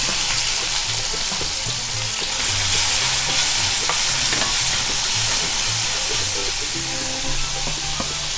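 Chopped onions fry in a hot pan with a loud, continuous sizzle while a spoon stirs and scrapes through them in steady, close strokes, with no one talking.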